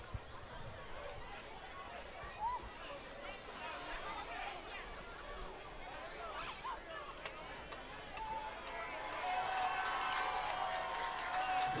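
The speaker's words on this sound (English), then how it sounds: "The crowd cheers when they get the down marker right." A high school football crowd in the stands at a game between Westgate and Assumption, a murmuring hubbub of chatter that swells into louder distant cheering toward the end, with voices talking throughout.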